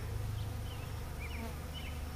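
Honey bees hum steadily around a hive box being built up with new foundation frames and old comb, a continuous low drone with faint higher buzzes of individual bees passing close.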